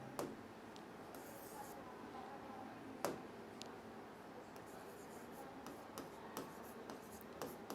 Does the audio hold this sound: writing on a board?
yes